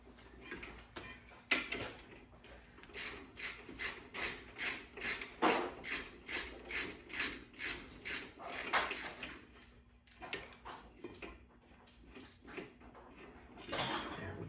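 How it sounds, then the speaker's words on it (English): Hand ratchet tightening large brake caliper bolts on a 2007-2012 Dodge Nitro, a rapid run of sharp metallic clicks in steady bursts, close and fairly quiet, with no talking. "if you're using a hand ratchet like I am, give those bolts all you got"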